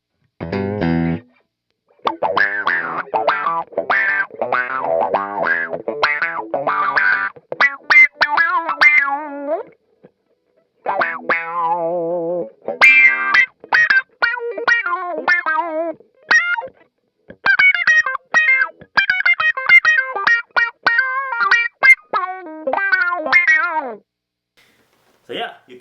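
An electric guitar played through a WR2 Pickle Vibe effects pedal, phrases of plucked notes and chords with a warbling, pulsing modulation, separated by short pauses.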